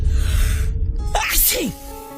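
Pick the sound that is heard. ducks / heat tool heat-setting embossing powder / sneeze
sneeze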